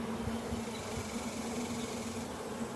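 Honeybees from a late-season swarm buzz steadily and densely throughout an open hive inspection, a continuous close drone with no voices over it.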